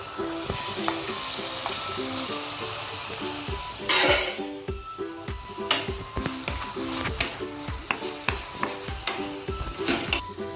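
Boneless chicken strips sizzle and fry in a hot pan for a chicken pasta dish, with a steady close crackle and a burst of loud spitting about a third of the way in, followed by repeated utensil stirs and clinks against the pan.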